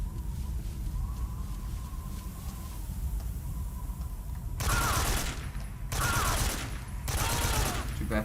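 AK rifle gunfire in the Metal Gear Solid 3 video game comes in three loud bursts of rapid automatic fire after a few seconds of low, rumbling background ambience.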